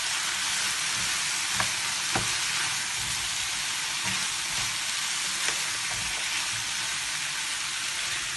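Fried chicken and sauce sizzling loudly in a hot pan, a dense steady frying hiss with a few faint knocks and scrapes as the mixture is stirred, close up and uninterrupted by speech.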